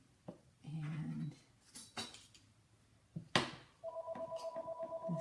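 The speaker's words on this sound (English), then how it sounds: "my phone is ringing" A phone rings in a home kitchen during a cooking demonstration, a steady repeating electronic ring pattern of many short even pulses near the end, following some clatter and a loud knock.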